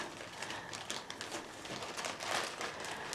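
Crinkling plastic from a toy packet being opened, a busy run of rustles and crackles up close, fairly quiet and continuous with no talking.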